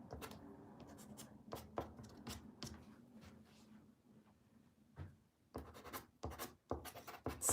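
Dry art materials scratch and scrape across paper in loose, irregular strokes during free mark making, close and fairly quiet, with bursts of quick repeated marks and brief pauses.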